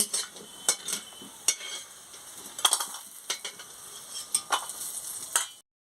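Lentil dumplings (bori) frying in hot oil make a steady close sizzle, with frequent sharp clinks and scrapes of a utensil against the pan throughout; no one speaks.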